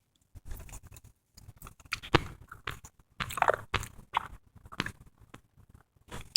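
Sour gum being chewed up close, with wet smacking, clicking mouth sounds coming in irregular bursts that are loud at moments and softer in between, with no talking.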